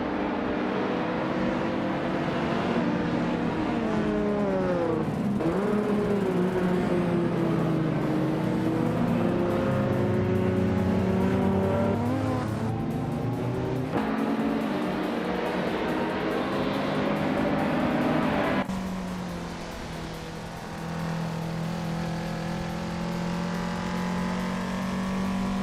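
Engines of race cars in a racing video game, led by a 1990 Nissan Pulsar GTR at the Interlomas track, roar continuously and loud, pitch rising and falling through gear changes, with a brief dip near the end.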